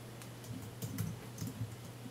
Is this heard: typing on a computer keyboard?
yes